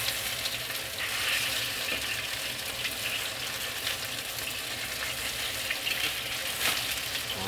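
Breaded striped bass pieces, lightly coated in cornstarch and flour, deep frying in hot oil with a steady, dense crackling sizzle throughout, occasional louder pops, and no talking.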